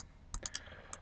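A computer keyboard clicks in a few quick, close taps, three in fast succession and one more a moment later, faint and alone.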